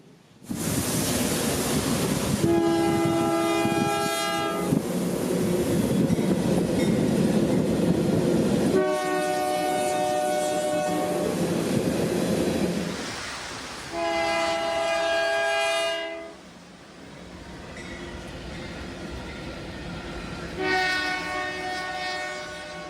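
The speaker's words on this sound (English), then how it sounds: "the southbound grain train would quickly speed into the oncoming storms of Zephyr Hills" A southbound freight grain train rumbles past steadily in the rain while its horn blasts several times in long chords, loud and close, before the noise fades.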